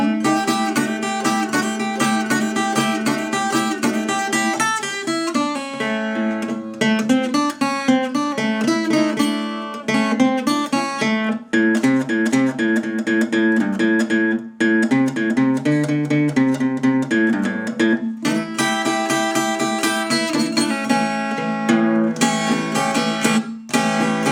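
A blues introduction played in full on guitar in a delta blues style, a steady, continuous stream of picked notes and bass runs with brief pauses between phrases, close and alone with no voice.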